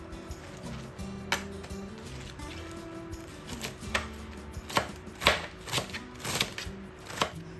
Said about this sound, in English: So I'm prepping it now to slice it. I'm going to cut my veggie.